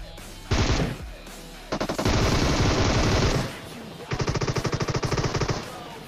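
Rapid automatic gunfire in the mobile battle-royale game PUBG Mobile rattles out in three loud sustained bursts, each tight and continuous, separated by short pauses with quieter game ambience between them.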